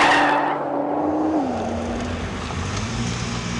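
A 2013 Nissan GT-R Black Edition lapping a track gives a steady, close engine drone that steps down in pitch with a gear change, mixed with road and tire noise.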